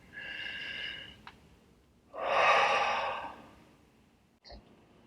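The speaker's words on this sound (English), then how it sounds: "Breathe with me." Slow, deliberate breathing up close, an airy inhale followed by a longer, fuller exhale with a soft click and a small breath sound at the end, no speech.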